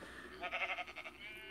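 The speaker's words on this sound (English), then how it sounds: "hi sheep. What do you want?" A sheep in the Minecraft video game bleats once, a short wavering baa, fairly faint and close, with no talk over it.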